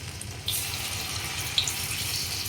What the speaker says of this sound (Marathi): हे आता मी तेलात सोडते